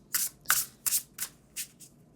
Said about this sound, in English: I shuffle until it feels right?